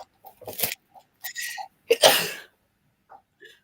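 A person sneezes twice near the microphone, sharp bursts with short breathy intakes before them, ending in faint trailing sounds, no talking.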